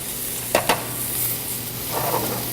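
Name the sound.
steak sizzling in garlic thyme butter in pan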